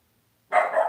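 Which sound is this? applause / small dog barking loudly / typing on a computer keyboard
small dog barking loudly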